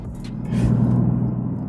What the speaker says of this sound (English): So we're driving along on a dual carriageway at 40 miles an hour, and just sounds fine.